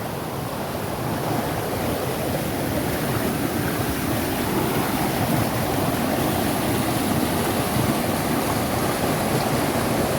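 Floodwater of a monsoon-swollen river in a Kokan village, Maharashtra, pours along in a continuous dense roar, loud and close, unbroken for the whole stretch.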